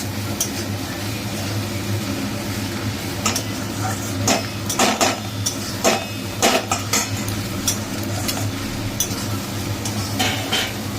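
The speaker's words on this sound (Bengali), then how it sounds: "কাঁচা লঙ্কাটা দিয়ে দেওয়া হলো, দিয়ে এবার একটুখানি মা নাড়াচাড়া করছে" Fried rice with green chilli being stirred in a pan, with a utensil scraping and clinking against the metal in irregular bursts over a steady background hum.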